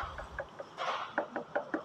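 Knuckles rap a thin plastic body panel on a RUSI Sparkle 150i motorcycle, giving a string of light, hollow taps in a fairly even rhythm, close and clear with no talking.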